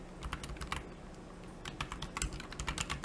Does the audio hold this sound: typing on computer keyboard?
yes